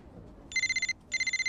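A telephone rings in two quick bursts of bright electronic trilling, each burst a rapid run of short pulses, clear and close with only faint background beneath.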